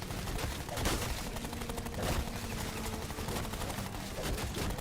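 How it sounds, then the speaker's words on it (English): Shield pistol firing in Call of Duty zombies mode, a dense, loud, continuous stream of rapid shots blended with game effects and music throughout. "Non-pack-a-punch shield pistol doing this much damage."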